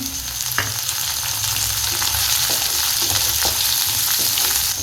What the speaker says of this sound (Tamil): வெங்காயம் நல்லாவே வதங்கிட்டு ஒரு தக்காளியை நான் அப்படி நீளமாக கட் பண்ணி வச்சுருக்கேன் அதையும் சேர்த்துப்போம்